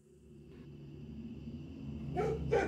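A dog barks twice near the end, sharp and fairly close, after a steady low background drone with no talk.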